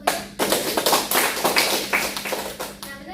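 A class of students applauds a classmate in a lesson, a dense burst of clapping hands lasting a few seconds with faint voices mixed in.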